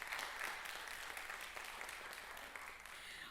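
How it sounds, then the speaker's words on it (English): An audience at a school district superintendent's town hall claps in steady, sustained applause, heard from within the crowd, with no break. "Let's give them a round of applause."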